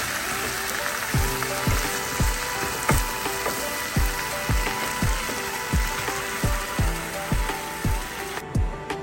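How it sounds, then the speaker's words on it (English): Bok choy sautés in a hot pan as soy sauce is added, giving a steady broadband sizzle with a rapid, regular run of clicking scrapes from a spatula or pan throughout, no talking. "Bok choy saute is ready, and to finish it off, she's adding a little bit of soy sauce"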